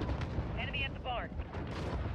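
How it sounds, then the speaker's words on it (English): Cruise missile launching in a Call of Duty Modern Warfare team deathmatch, a loud rumbling roar with booming gunfire-like thuds, mixed with radio voice chatter over the noise. "Allied cruise missile away"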